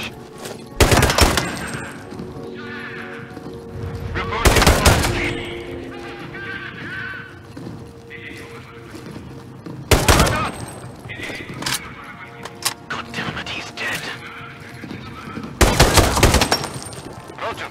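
Bursts of gunfire ring out in the video game Sniper: Ghost Warrior 3, with four loud, dense volleys spread across the stretch and talking and game noise between them.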